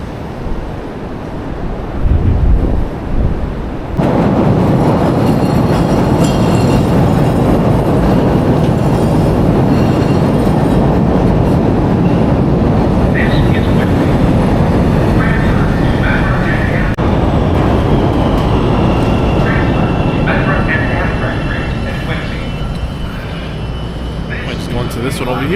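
A Chicago subway train runs with a loud, steady rumble and roar that fills the whole stretch, heard from inside the car, with a brief clatter at the start and a faint high whine later on.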